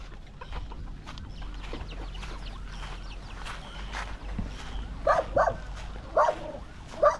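A dog barks in short repeated bursts, several loud yaps near the end, over an outdoor background with clucking chickens.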